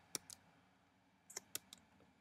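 A few sharp, quiet keystrokes on a computer keyboard, a brief cluster of clicks followed by a pause and then another short burst of typing, close by in an otherwise quiet room.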